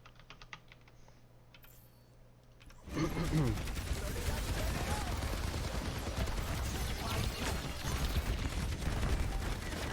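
Overwatch gunfire on the Havana map bursts in after a few seconds of quiet keyboard clicking, then continues as dense, rapid weapon fire and in-game action amid steady typing, loud and continuous to the end.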